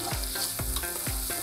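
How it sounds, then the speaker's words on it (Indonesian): Oil sizzling steadily in a pan as shallots are sautéed, with repeated scraping strokes of a utensil stirring roughly every half second, close and continuous. "Pertama, tumis bawang merah"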